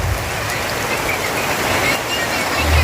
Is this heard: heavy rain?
yes